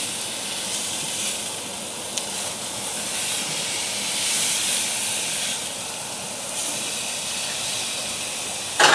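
Steaks sizzle in a hot pan, giving a steady, close hiss that swells slightly midway, with a brief knock near the end and no talking.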